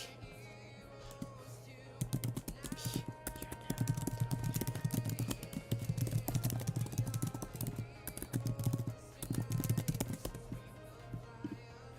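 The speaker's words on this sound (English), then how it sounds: "I'm just typing because there's nothing to cast right now" Rapid clicking of computer keyboard keys, typed in steady bursts near the microphone under a constant low hum, with no talk.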